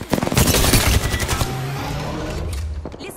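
Rapid automatic gunfire in Apex Legends, a loud burst of fast shots up front that trails into scattered reports and lingering battle noise, heard alone without voices.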